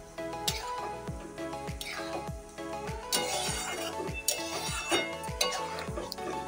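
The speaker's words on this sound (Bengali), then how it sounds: "দিয়ে একটু ভালো করে নাড়িয়ে চাড়িয়ে নেব।" Fried pointed gourd being stirred with mung dal in a pressure cooker, giving a steady run of scraping, clinking utensil knocks against the metal pot alongside faint cooking noise.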